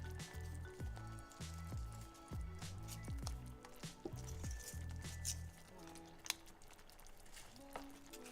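Tortilla chips are layered into a pan of enchilada sauce, giving soft wet squishes and light crackles in an irregular run of close, quiet sounds, with faint background hum.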